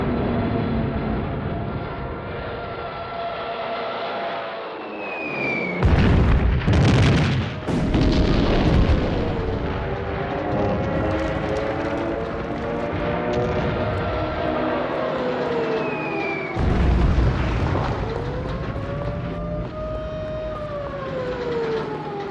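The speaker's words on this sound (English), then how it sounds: "Hitler orders the bombing of Warsaw." Aerial bombing of Warsaw in September 1939, with loud droning aircraft, falling whistles and heavy explosion bursts around six and seventeen seconds, all dense and continuous throughout.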